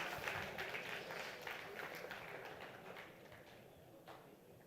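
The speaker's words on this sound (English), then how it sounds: "Let's keep the applause going, guys." Audience clapping for prize winners at a quiz event, a moderate round of applause that slowly thins out over a few seconds, heard from within the hall without speech.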